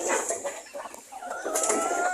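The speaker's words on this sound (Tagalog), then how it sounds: "Ito yung 5 nating mga pabo na puro babae." Several female turkeys on a small farm call out while approaching. Their short clucks and higher yelps overlap close by in quick, irregular bursts.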